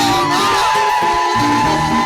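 Church congregation at a Sunday praise and worship service, ululating and whooping in praise, a dense sustained crowd sound with high trilling voices over music, loud and continuous throughout.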